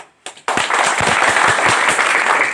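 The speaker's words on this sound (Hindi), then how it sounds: "अभी जो तालियां बज रही हैं," A crowd at a public political gathering in Bihar bursts into loud applause after a brief pause, with dense, sustained clapping and no talking.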